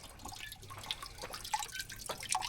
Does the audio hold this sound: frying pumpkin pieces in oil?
no